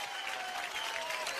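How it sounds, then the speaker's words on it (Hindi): A studio audience at a comedy talk show breaks into steady, dense applause for a guest, the clapping even and continuous with a faint tone running underneath. "परिणीति के लिए एक बार जोरदार तालियां हो गए"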